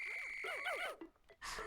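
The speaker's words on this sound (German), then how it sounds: "Ich halte einfach B gedrückt, um sie mit meiner Pfeife zurückzuholen." A whistle blown to call back Pikmin in Pikmin 4, a rapid series of bright warbling tones that rise and fall over about a second, followed by a short hissy burst near the end, fairly faint overall.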